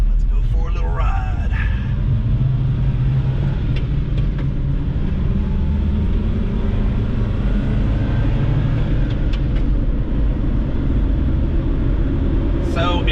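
Inside the cab of a 1996 Suzuki Carry mini truck under way, a loud constant engine drone and road rumble fill the space, with faint rattles and brief squeaks.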